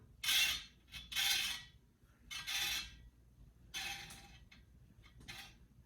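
A 1974 Schwinn Lady Suburban bicycle wheel spins while its slightly untrue rim rubs, giving a close, dry swishing scrape that returns in rhythmic bursts about once a second, with no talking.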